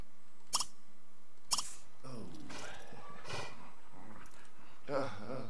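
A pet dog in The Sims 3 gives a few short, sharp barks near the start, then whining, growl-like vocal sounds over a low background.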